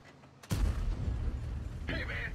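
IS-6 heavy tank cannon firing in a video game: one loud, sudden boom with a rumbling tail, followed by a bright mechanical reload clank, heard up close without talk.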